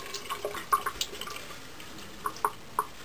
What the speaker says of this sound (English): Rinse these off.